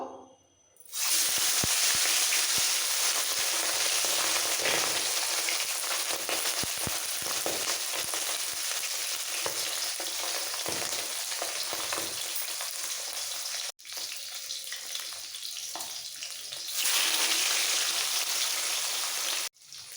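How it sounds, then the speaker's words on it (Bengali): Salt-and-turmeric-coated fish, small charapona pieces, sizzle loudly in hot oil, a steady broadband crackle and hiss that runs almost unbroken, briefly dipping once midway before surging again. "নুন হলুদ দিয়ে মাখানো মাছগুলো দিয়ে দিচ্ছি দুবারে মাছগুলো ভাজবো"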